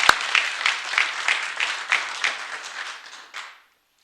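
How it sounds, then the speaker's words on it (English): An audience at a St. Patrick's Day celebration applauds the Newark Parade Committee, a steady patter of many hands clapping in a room that fades out after about three and a half seconds. "one more round of applause for our Newark Parade Committee"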